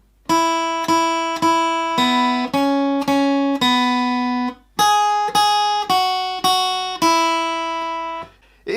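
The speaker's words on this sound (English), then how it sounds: "It is, of course, Old MacDonald Had a Farm." Clean guitar picking out the Old MacDonald Had a Farm melody, a steady run of separately struck single notes that ring briefly each, played alone at moderate volume.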